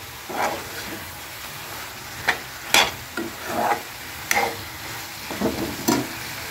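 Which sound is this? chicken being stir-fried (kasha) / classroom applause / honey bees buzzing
chicken being stir-fried (kasha)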